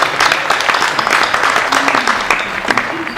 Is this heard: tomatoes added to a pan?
no